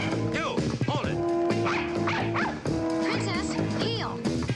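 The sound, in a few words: dog barking and whimpering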